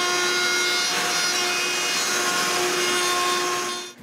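Wooden pieces for a set of bellows are rounded at the edges by hand, a steady close rasping and sawing scrape that runs continuously for about four seconds and then cuts off abruptly.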